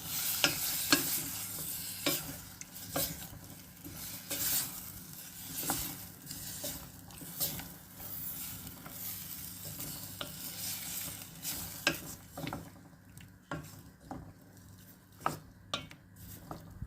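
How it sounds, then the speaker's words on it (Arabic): Boiled potatoes being stirred into chermoula in a pan, a continuous soft sizzle under repeated scraping and clinking of a utensil against the pan, close and fairly quiet, with no speech. "غادي نضيفوها على الشرموله ونحركها"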